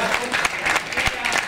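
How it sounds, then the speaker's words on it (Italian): An audience applauds at a sports team's season presentation in Riccione: steady, close hand clapping from a crowd over a short burst. "Marco Bucci, eccolo là, Marco Bucci, facciamo un applauso, ragazzi,"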